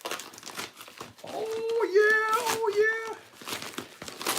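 Packaging crinkles and rustles close up while a package is opened, mixed with a drawn-out vocal exclamation in the middle and some brief speech.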